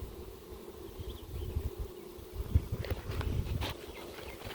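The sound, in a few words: honeybees buzzing from a bee package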